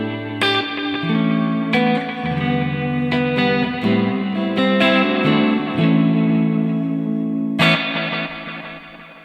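An electric guitar runs through a NUX Tape Echo pedal, distorted chords and single notes followed by softer, slightly degraded echo repeats that pulse in a galloping rhythm, loud and close.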